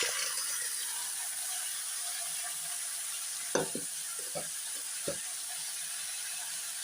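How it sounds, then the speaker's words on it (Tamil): Cluster beans are stir-fried with asafoetida in a pan: a steady, fairly quiet hiss of frying oil runs throughout, with three or four sharp clinks and scrapes of a spoon against the pan near the end. "சேர்த்துட்டு நல்லா வறுத்து விட்ருங்க அதுக்கப்புறமா நம்ம எடுத்து க்ளீன் பண்ணி வச்சுருக்கிற இந்த கொத்தவரங்காய் இதோட சேர்த்துருக்கேன்"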